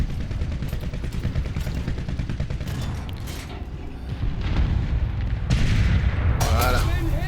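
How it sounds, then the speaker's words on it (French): Gunfire from an M3 Lee tank in War Thunder, its 75 mm gun and machine gun firing in a dense, continuous, loud clatter of shots and booms, layered with engine rumble and battle noise. "Un coup de mitrailleuse dans la tronche."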